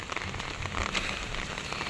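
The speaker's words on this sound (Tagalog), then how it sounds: "kami inabot na ng ulan." Steady rain falls on surfaces outdoors, a soft, even hiss with scattered drop patter, moderately faint and with no talking.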